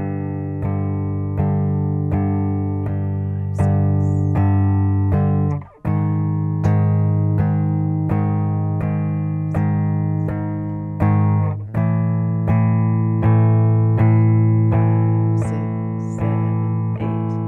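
Distorted guitar chords ring out continuously, changing on a steady beat with no gaps between them, loud and sustained throughout.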